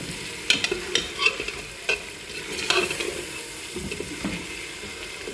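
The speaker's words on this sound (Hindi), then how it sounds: "ये चिकन जो है फ्राई हो चुका है" Chicken frying in masala in a pan, a soft steady sizzle broken by repeated scrapes and clinks of a spoon stirring, close and fairly quiet.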